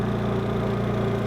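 A Honda EU3200i fuel-injected inverter generator running steadily, a close, even hum with a low, pulsing engine beat and no voices.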